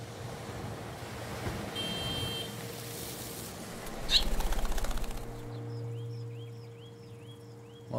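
Seabirds cry and flap in the video game Far from Noise, set on a cliff above the sea, with a few calls and wingbeats over steady surf and wind, followed by quieter ambient tones.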